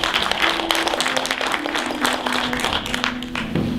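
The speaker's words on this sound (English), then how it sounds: "Let's give these folks a big round of applause." An audience applauds a panel at a Black history and family program, steady close clapping that fills the whole stretch with a faint voice underneath.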